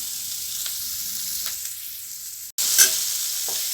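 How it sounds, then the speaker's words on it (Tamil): Tomatoes sautéing in a pan for a spicy capsicum chutney, with a steady frying hiss and a few soft stirring strokes, briefly cut off and then resuming louder. "கொஞ்சம் தக்காளி நம்மளுக்கு கொஞ்சம் சுருங்குற அளவுக்கு வதங்கட்டும்"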